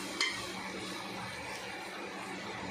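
A spoon stirs raw prawn and tomato curry in a pan, giving a soft, steady scraping and a low sizzle, close by, with one brighter clink of utensil against metal near the start.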